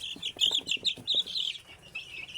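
Hens kept for breeding in a coop with a heat lamp cluck and chirp in quick, busy bursts, a close flock calling over and over with no talk.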